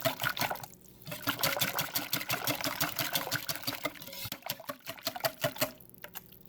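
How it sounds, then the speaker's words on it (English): A whisk beats mashed bananas in a bowl for banana bread, producing rapid, fairly even wet ticking and tapping strokes at close range, with short pauses and no talk. "I'm gonna whisk this until all the lumps are gone"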